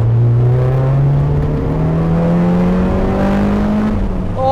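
A modified Honda Civic EG with a K20 engine swap revs loudly from inside the cabin, a rattly engine note that climbs steadily in pitch, then dips at the very end.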